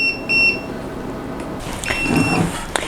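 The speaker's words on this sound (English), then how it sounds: "when the Mio Mat is done, it will beep like this, and it is really annoying" A Mio Mat soy milk maker finishing a batch gives a short series of high electronic beeps, then beeps again after a pause, over a faint background hum.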